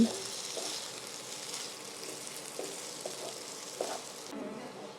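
Quiet, steady sizzle of rice frying in a pan over a low flame, with a few soft stirring scrapes; no voices.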